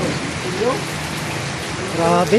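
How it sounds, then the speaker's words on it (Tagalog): Steady rain pours down on a flooded street in a continuous wash of hiss, with a person speaking briefly over it. "konting buhos lang ng ulan"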